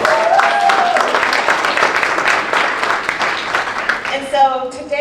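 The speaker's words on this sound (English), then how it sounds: "So let's give him a round of applause." An audience at a business event featuring Black executives applauds in a dense, sustained wash of clapping that fades near the end as a voice begins speaking.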